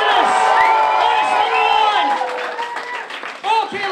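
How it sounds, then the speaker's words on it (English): A comedy club audience whoops, hollers and cheers loudly and continuously, with shrill shouts and scattered claps forming a dense, close crowd roar throughout. "And that's some hooping, and hollering, and cheering,"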